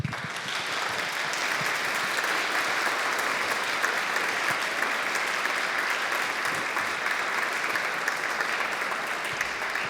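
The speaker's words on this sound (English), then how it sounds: "let's give a round of applause to Jaan" Sustained audience applause at a teaching and learning conference session, steady and dense for the full ten seconds with no talk over it.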